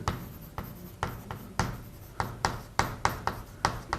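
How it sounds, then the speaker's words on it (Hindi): Marker or chalk writing on a board during a physics lecture, a series of short scratchy strokes in an uneven rhythm, close and fairly clear, with no talk. "इसको अपन लिख लेते हैं"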